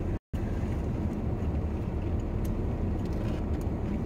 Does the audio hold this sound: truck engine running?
yes